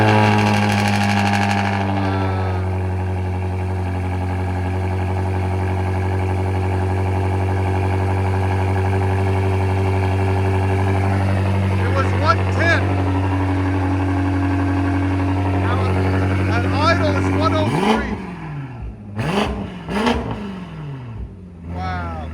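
A 2020 BMW M8 Competition of over 800 hp, fitted with downpipes, 3-inch stainless exhaust and Flowmaster Outlaw mufflers with valves open, idles loud and close, then snaps into several sharp revs near the end.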